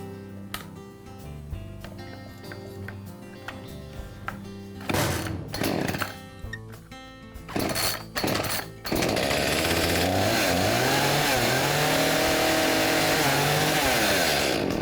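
A flooded chainsaw is pull-started: several short sputtering coughs and brief bursts of engine noise, then the saw fires and runs at a loud, steady buzzing idle for the last several seconds.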